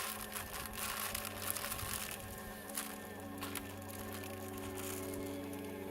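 A bee vacuum set to half speed sucking up dry cat food, a faint steady buzzing motor hum with scattered small clicks and patters of kibble being drawn in.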